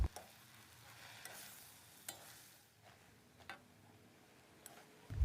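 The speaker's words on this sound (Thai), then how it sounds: "แล้วก็ผัดให้เข้ากันเล็กน้อยนะครับก่อนที่จะใส่เครื่องปรุงลงไปนะครับ" Fresh glass noodles with water are stir-fried in a pan, heard as a faint, soft sizzle broken by a few sharp spatula clicks and scrapes. The sound is quiet and close, with no talk.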